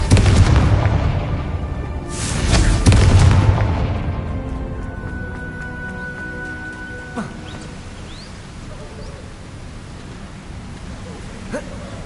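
A Confringo fire spell explodes in Hogwarts Legacy with two booming blasts in quick succession, followed by crackling and fading debris, and brief chimes later on.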